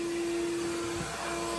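A vacuum cleaner drones steadily while cleaning a car interior, a loud close whine with a constant pitch and a brief muffled dip as the nozzle shifts, no voices.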